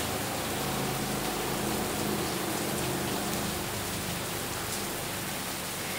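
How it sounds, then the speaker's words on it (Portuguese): Light rain falls steadily outdoors, a dense continuous patter of drops hissing over everything without a break. "Chuva. Uma chuvinha, hein?"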